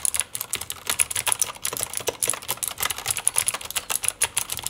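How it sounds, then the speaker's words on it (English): Steady typing on a mechanical keyboard with Cherry MX Blue clicky switches, a close, crisp stream of sharp clacks and clicks at a brisk uneven pace, with no talking. "Let's start with Cherry MX Blue, and they are most clicky case with good tactile feedback."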